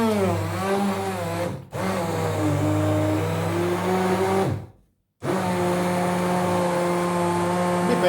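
A Silvercrest SSMS 600 E5 hand blender whirs loudly and steadily through fruit and a small amount of milk, its motor pitch shifting as it works, cutting out briefly twice before starting up again.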